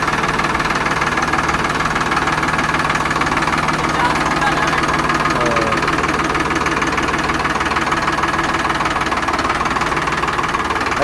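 Farmtrac 60 tractor engine running steadily in third low gear, a loud, continuous diesel drone with a knocking, throbbing rhythm that holds evenly throughout, close by with no talk over it.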